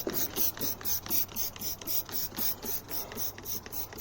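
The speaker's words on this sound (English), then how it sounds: "spray the whole thing back down with the instant detailer" Rapid bursts of liquid instant detailer sprayed from a trigger bottle onto a black Ford F150, a steady run of quick hissing pumps close up with no talking.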